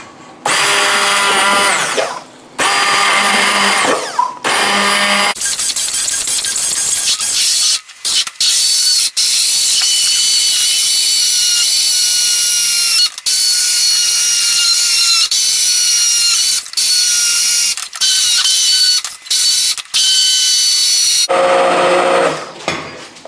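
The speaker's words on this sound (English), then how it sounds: "grab your hand blender, okay, and start blending the tomatoes" A hand blender pureeing tomatoes for soup whirs loudly in bursts, starting and stopping several times, with a long continuous run in the middle.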